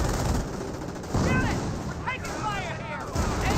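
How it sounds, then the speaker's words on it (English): Company of Heroes battle with mortar half-tracks firing: repeated booming impacts and gunfire rumble in close bursts, while a voice talks over the combat. "Mortar half tracks sending a lot of hits there onto the AT gun"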